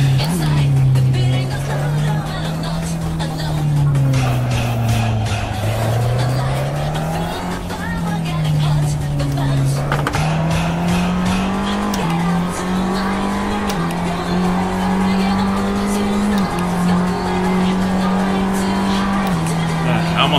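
Race car engine in Assetto Corsa, played on PC, holds a loud, steady howl that climbs and dips with gear changes, with tire squeal scrubbing through corners, running continuously and close up for the whole stretch.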